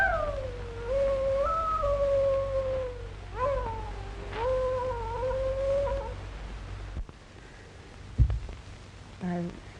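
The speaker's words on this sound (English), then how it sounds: "I wish you'd stop that awful howling." Howling in a radio drama set out West, a wavering, catlike wail rising and falling in pitch for several seconds, followed by a short gap and a few brief yelps.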